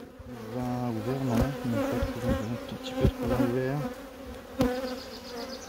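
A productive colony of black honeybees buzzes steadily and close by, a dense continuous drone with a few brief knocks and bumps from the hive.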